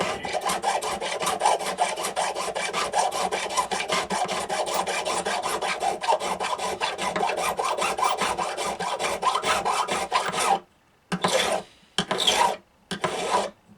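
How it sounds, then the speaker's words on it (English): A fret mill files across guitar frets in fast, rasping back-and-forth strokes, close and loud, then stops before a few short scraping bursts that carry the high squeal of a loose fret. "Hear that squeal? That's a loose fret."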